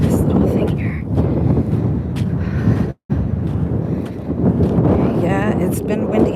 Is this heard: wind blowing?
yes